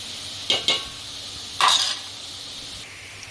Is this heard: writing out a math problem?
no